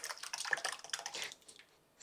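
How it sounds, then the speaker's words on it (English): Crushed tomatoes pour from a can into a cooking pot of sausage and alligator stew, giving a quick burst of wet splashing and glugging that fades within two seconds, close and moderately quiet. "Splashing everywhere."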